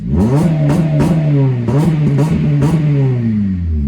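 A Honda Civic Type R (FN2) engine with an aftermarket 1.5-inch exhaust, small resonator and cat revs hard in repeated bursts, its loud raspy exhaust note rising and falling close by, with no talking.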